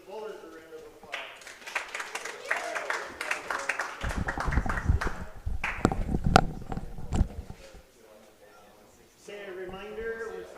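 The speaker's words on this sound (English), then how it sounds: "Now let's give the bowlers a round of applause." A round of applause from the crowd at a boys' youth bowling tour elimination round, steady clapping swelling for several seconds after a brief announcement, then fading out before the announcer speaks again.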